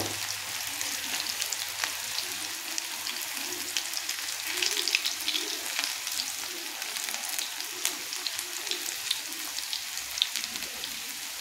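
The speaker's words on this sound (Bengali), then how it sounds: "তো এরকম ঝুরো ঝুরো টাইপের আমি পেঁয়াজি ভেজে নেব।" Loose, shop-style onion pakoras in a thin gram-flour batter fry in oil with a continuous crackling sizzle and scattered sharp pops. The sound is close and moderately loud, and no one talks over it.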